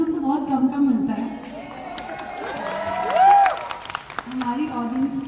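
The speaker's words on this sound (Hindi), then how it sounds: "हमारी ऑडियंस की तालियों से पता लग रहा है कि how much they love us" An audience claps and cheers at a fan event, a brief burst of applause and crowd noise mixed with voices and chatter.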